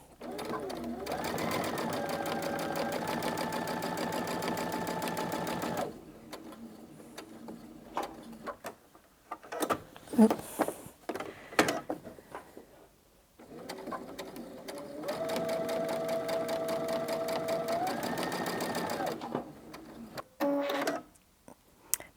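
A sewing machine stitching a fabric pocket runs in two sustained bursts of rapid, even mechanical whirring, separated by a quieter pause filled with handling clicks and rustles, with a short final run near the end.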